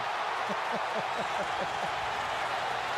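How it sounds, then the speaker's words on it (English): Stadium crowd roaring after a Raiders touchdown against the Chargers in a 2009 NFL game, a dense sustained wash of cheering at steady loudness throughout, with a commentator's voice faintly woven through. "Listen to the crowd"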